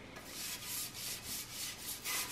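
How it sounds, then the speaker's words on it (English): Toilet being scrubbed with a brush, a rhythmic back-and-forth rubbing with about eight strokes, faint and close, with no talking. "We're just scrubbing toilets."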